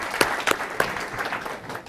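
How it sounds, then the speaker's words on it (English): Audience applause at a corporate sales event, a burst of scattered claps with a few sharper peaks early on that thin out and fade over two seconds. "So I just wanted to basically give you guys a round of applause."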